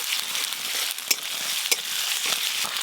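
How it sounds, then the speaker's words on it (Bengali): Ginger, garlic and chopped onion fry in a hot tempering with whole garam masala for a kofta curry, giving a steady, even sizzle with a few faint clicks. "আদা রসুন পেঁয়াজ একটু ভালো করে ভাজা ভাজা হয়ে গেছে"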